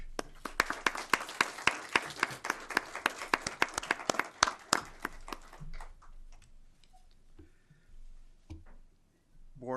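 Applause from an audience at a school board meeting as board members are introduced, several seconds of brisk clapping that thins out and fades into room noise with a few scattered sounds.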